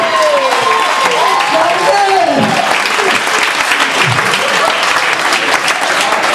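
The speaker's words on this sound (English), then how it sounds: "Give him a fucking round of applause" A comedy club crowd breaks into loud, sustained applause mixed with cheers and whoops, close and continuous throughout.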